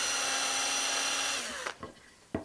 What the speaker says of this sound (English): we need to take our pieces and drill out the holes here with a countersink bit